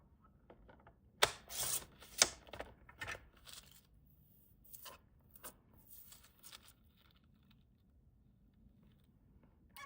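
Scissors snip through a gel print in a handful of quiet, close crisp cuts, with a couple of sharper clicks early on and soft paper rustling between them.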